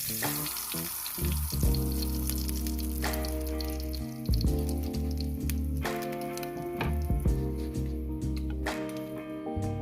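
Burger patties fry in hot grease with a loud, continuous sizzle and crackle close up. Scattered pops and spatters rise over the hiss for about ten seconds, with no talking.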